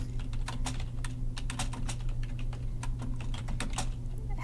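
Rapid keystrokes on a computer keyboard tap out a short note, a steady run of close, crisp clicks over a low constant hum, with no voices.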